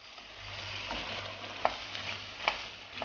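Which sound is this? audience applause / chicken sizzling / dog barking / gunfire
chicken sizzling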